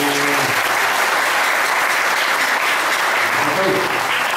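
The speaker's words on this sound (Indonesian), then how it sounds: "Tepuk tangan dulu." An audience at a youth meditation session applauds steadily and loudly throughout, with a voice briefly audible over the clapping.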